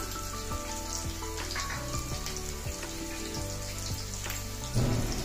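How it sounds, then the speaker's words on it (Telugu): Thinly sliced onions and slit green chilies fry in a pan of oil on medium flame, giving a steady, close crackling sizzle with light popping throughout and a brief louder clatter near the end. "దోరగా వేగనీయండి. మీడియం ఫ్లేమే పెట్టుకోండి అమ్మా."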